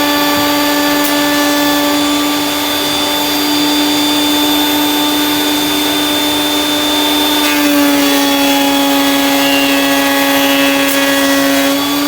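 A Dewalt DW733 thicknesser running, together with a dust collector, gives a loud, continuous motor whine with a steady roar, shifting in pitch slightly about two-thirds through, with no voices.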